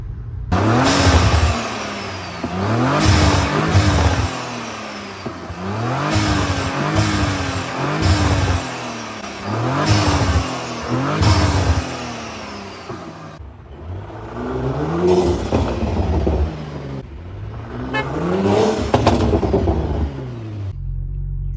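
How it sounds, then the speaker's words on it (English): An Audi RS5 (B9/B9.5) with an aftermarket 034Motorsport X34 air intake revs repeatedly while standing still, each rise and fall loud and close, with a whooshing intake roar, then a few longer revs after a brief pause. "some standstill revs, so you can hear the air intake like actually suck in the air"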